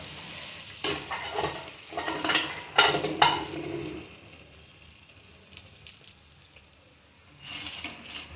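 Aloo paratha being flipped on a hot pan, with brief stirring and clinking scrapes followed by a steady sizzle of frying. Nobody speaks.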